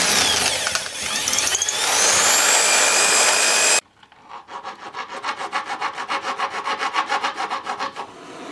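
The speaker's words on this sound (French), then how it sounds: "Avec une mèche de 8, je vais lui redonner le diamètre intérieur." An 8 mm drill bit bores out the inner diameter of a short 34 mm copper tube for a whistle, first a loud continuous high grinding whine, then a sudden drop into rapid rhythmic scraping pulses.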